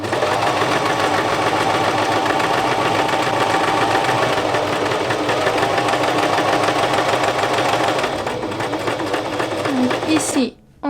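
A sewing machine stitches the 1.40 m edge of a fabric bean bag pouf, a steady close rhythmic whir running for about ten seconds before stopping, with a voice speaking over it.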